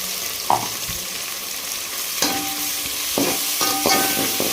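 Ginger garlic paste sizzling and frying in a pan for country chicken curry, with scraping stir strokes and a few light clinks of a spoon against the metal.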